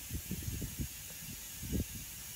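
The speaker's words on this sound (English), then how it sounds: "Need some air in this tire." Compressed air hisses steadily into a low tire, a continuous thin rush with a few dull low knocks and bumps near the valve.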